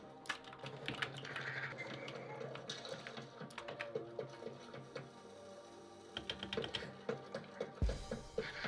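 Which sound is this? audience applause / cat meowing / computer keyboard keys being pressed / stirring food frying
computer keyboard keys being pressed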